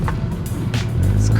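A Mk6 VW Golf R accelerating hard under turbo boost, its engine a loud, close, steady roar that builds slightly toward the end of the short burst.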